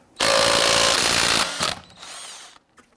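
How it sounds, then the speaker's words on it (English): Impact tool with a 22mm socket loosening a lug nut on the front wheel of a raised Buick Enclave, one loud close burst of about a second and a half followed by fainter rattling as the nut spins off. "we're going to use a 22mm socket to loosen and remove our lug nuts"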